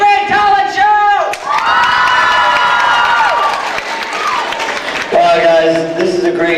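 Audience at a Euclid Middle School 8th grade talent show cheering and applauding loudly, with excited shouting and whoops layered over a dense crowd roar that swells and dips.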